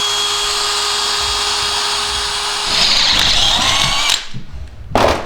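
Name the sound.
drilling with a small drill bit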